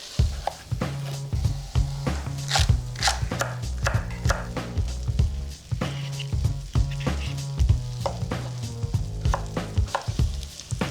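A knife chops celery, carrots and potatoes into a medium dice on a cutting board with quick, rhythmic close taps, while onions sizzle in a pan underneath and no one speaks.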